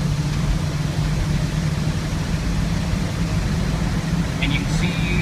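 A 1968 International Travelall drives along and shifts through its gears, with a steady, loud engine and road rumble running throughout and a brief higher tone near the end.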